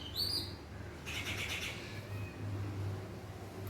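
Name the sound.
birds chirping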